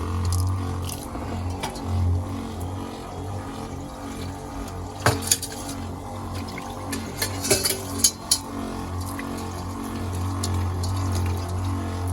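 Water runs from a tap inside a van, a steady low splashing stream with a faint background hum and a few sharper clinks of dishes near the middle.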